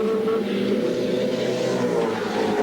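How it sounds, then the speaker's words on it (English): A Holden Commodore touring car with a flat, ailing engine drones past on the Bathurst pit straight, a continuous loud engine roar holding steady without clear acceleration. "Brock's engine sounding very flat. He just came past us pit straight, sounding very second-hand."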